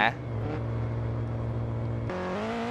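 A car engine drones steadily in the Roblox driving game, its pitch holding and then stepping up as the car accelerates, loud and continuous with someone talking over it.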